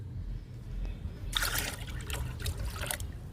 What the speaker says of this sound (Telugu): మనము ఈ లిక్విడ్ని డైల్యూట్ చేసుకుందాము.